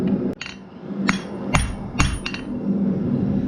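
Blacksmith hammer blows on hot steel while forging a vine-shaped bottle opener: several sharp ringing strikes at irregular intervals over a low steady hum, close and loud, no talking.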